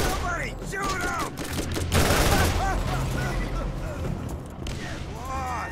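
Ajax's Spear, an Atlas combat rifle in Borderlands, fires rapid sustained automatic bursts, loud and close, with a shouting voice over the gunfire.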